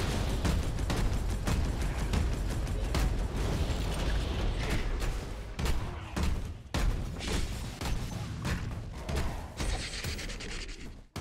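A wall cannon boss firing in Torchlight: Infinite, a rapid barrage of heavy blasts and mechanical clanks that repeat densely, then thin into scattered bursts near the end, loud and close.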